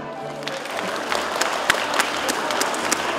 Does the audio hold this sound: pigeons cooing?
no